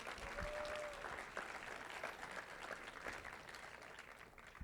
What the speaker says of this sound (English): So can we get a round of applause for all of our sponsors?